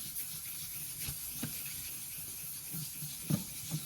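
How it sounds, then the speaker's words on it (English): Wet sanding of a Technics turntable's acrylic dust cover with 1500 grit sandpaper, a soft continuous rubbing hiss with faint strokes, quiet and close. "Let's just hit it real quick with the 1500 grit."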